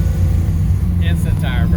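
A 1971 Pro Touring Formula Firebird pulls hard in second gear from a roll, a loud, steady engine roar under brief talk.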